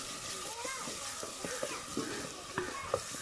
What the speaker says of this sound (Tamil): இந்த வெங்காயம் அரைச்சது நல்லா அந்த எண்ணெயிலேயே நல்லா வதங்கணும்.